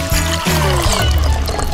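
Liquid is poured into a bottle in a school DIY hack, a steady splashing trickle lasting under two seconds, close and fairly loud with no talk.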